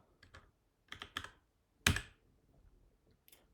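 Typing on a computer keyboard while writing Java code: short bursts of close keystrokes with pauses between, one louder key strike in the middle, and no voices.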